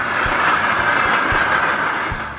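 A train passes on a rail track with a steady loud rushing roar, rhythmic clickety-clack of wheels over rail joints, and a faint hiss throughout.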